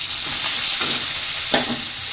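Chopped onions fry in oil with cumin and mustard seeds, giving a loud, close, continuous sizzle broken by a few stirring scrapes of a spatula, no talking.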